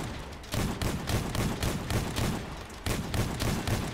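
Weapon fire in the Hammerfalls video game, an automated build, lands in rapid, evenly spaced bursts, loud and close, with a short pause before a second volley and no talk over it.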